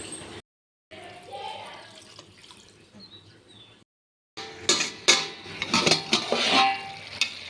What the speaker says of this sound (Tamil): நெக்ஸ்ட்டு தேவையான அளவு தண்ணி ஆட் பண்ணோம்.